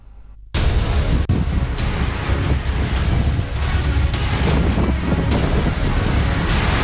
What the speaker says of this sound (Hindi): दिल्ली एनसीआर समेत कई राज्यों में चलने वाली इन तेज हवाओं के आने की आशंका पहले ही थी।